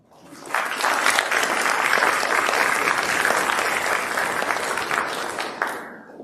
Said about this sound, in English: they'll stand individually to take some applause